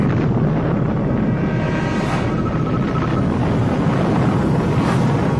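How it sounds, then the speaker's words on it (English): Tsar Bomba, a 50-megaton fusion bomb, detonating in the atmosphere: a loud, sustained, dense low rumble and roar with a steady broadband wash and faint rising swells, and no talk. "Within moments, the fusion device detonates, shooting a flash of light through the atmosphere, visible from 600 miles away"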